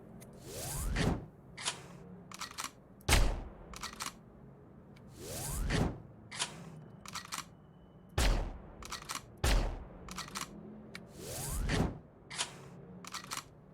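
M4 rifle in the online shooter Sudden Attack, several loud sharp shots fired singly and in short bursts, spaced a second or two apart, with mechanical reload clicks between them and no talking.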